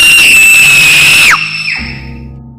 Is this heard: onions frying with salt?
no